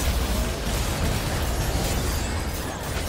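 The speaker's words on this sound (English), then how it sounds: "Blue team's turret has been destroyed." Turret destroyed in League of Legends, a dense continuous rumbling blast of explosion and crumbling debris that holds steady and loud for several seconds with no voices over it.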